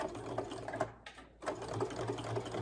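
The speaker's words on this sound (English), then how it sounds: "So I'm going to start at that 1/4 inch, back stitch," A sewing machine runs a regular straight stitch with back-stitching along a ribbed knit neckline, a steady close mechanical whir that breaks off briefly in the middle before resuming, with no voices.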